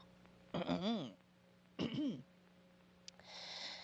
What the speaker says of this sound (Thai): กระแอมบ่อยเนาะ